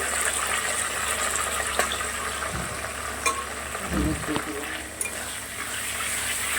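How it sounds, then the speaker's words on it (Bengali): Eggplant pieces frying in hot oil, producing a constant close sizzle with occasional clinks and scrapes of a utensil and a few low thumps in the middle. "বেগুনগুলোকে ভেজে তুলে নেব"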